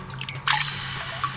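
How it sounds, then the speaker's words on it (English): A single clear water drip lands in a cave with a bright splash, then leaves a short ringing tail over a faint low background. "It's gotten ever so slightly bigger while we've been here. One drip at a time."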